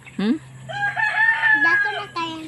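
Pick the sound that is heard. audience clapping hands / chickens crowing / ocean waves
chickens crowing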